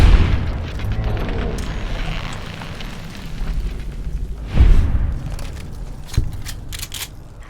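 Gunfire in Fallout New Vegas aimed at ants: a rumbling, booming stretch with a heavier blast near the middle and a sharp crack later, loud and close with no talk.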